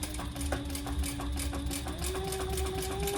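A sewing machine runs steadily, stitching two rows across the top of a sling crossbody bag, its motor drone holding a rising hum with rapid needle clatter, close and continuous without talk.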